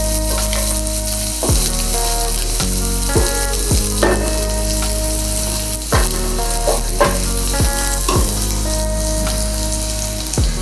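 Chopped spring onion bottoms fry in hot oil, a loud, even sizzle with crackling pops and a few clinks of a spoon against the pan, no one speaking.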